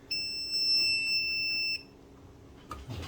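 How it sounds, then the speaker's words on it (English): A continuity tester beeps on pinball machine wiring in a Williams Defender, one steady high-pitched tone lasting nearly two seconds, close and clear, followed by a few faint handling clicks. "beeping out end to end, dink, dink, dink, dink, could be a false failure"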